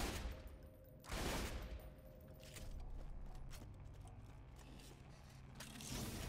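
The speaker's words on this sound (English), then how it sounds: "I need to shoot these tires." Gunfire in Borderlands 2 as a player shoots out a vehicle's tires: several sharp broadband bursts rise over a rumbling, mechanical game background, with no talking.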